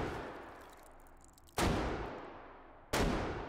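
Two loud, booming 50 caliber rifle shots from the VR game Hot Dogs, Horseshoes & Hand Grenades, each a sharp blast with a long decaying echo, fired about a second and a half apart over a faint background rumble.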